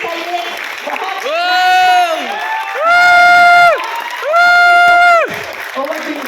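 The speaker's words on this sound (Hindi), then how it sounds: "तालियां बरसती रहनी चाहिए।" Participants at a team training session let out loud, sustained unison cheers in three long bursts, with mixed crowd noise and voices between them.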